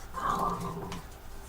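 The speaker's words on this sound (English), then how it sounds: "Don't growl at me, Maisie." A pet dog named Maisie gives a brief, low whimpering growl indoors, close by but quiet, lasting about a second.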